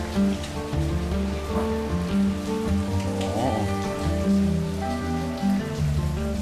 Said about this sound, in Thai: ต้องบอกว่าตั้งแต่มาถึงนี่ฝนตกไม่หยุดเลยครับ